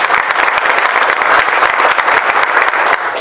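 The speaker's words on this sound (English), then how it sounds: "So please give these people a big round of applause." An audience at a Senate candidate forum claps loudly and steadily in a big round of applause, dense and continuous throughout with no talking over it.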